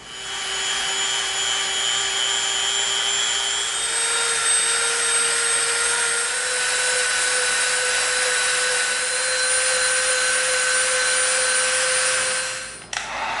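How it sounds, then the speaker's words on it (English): A Dremel rotary tool sands the edges of an EVA foam pistol handle, a steady high-pitched whine running continuously and close up for about thirteen seconds before cutting off abruptly near the end. "now we're going to get our Dremel out again"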